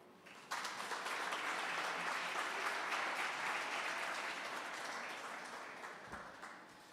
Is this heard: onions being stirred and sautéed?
no